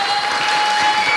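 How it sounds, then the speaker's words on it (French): Festival audience clapping at a live podcast recording in Rennes, a steady dense wash of applause throughout the short stretch, fairly loud and close with no voices over it. "Vous pouvez les applaudir s'il vous plaît"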